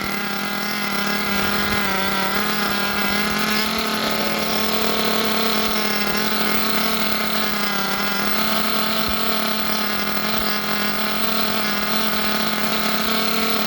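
A nitro-powered RC engine runs during break-in, a loud, steady high-pitched buzz with whining harmonics that holds for the whole stretch without pause.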